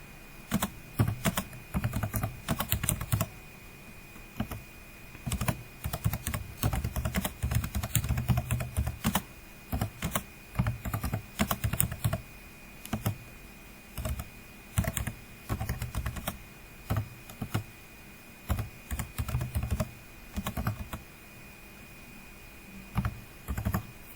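Fingers tap on a computer keyboard, giving close, clattering bursts of keystrokes in irregular runs with short pauses between them throughout, and no talking.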